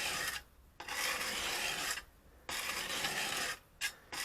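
A wood chisel rubbed back and forth on a sharpening stone, a steady rasping scrape in three long strokes with short pauses between, close and fairly loud, with no voices.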